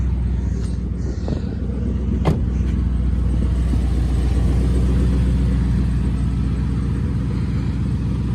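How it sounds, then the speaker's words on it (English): A Ford Focus project car fitted with a twin-turbo V8 runs steadily nearby, its deep, even engine rumble continuing throughout with one sharp click partway through. "Engine's running, and the power steering is full, and the wheels turn."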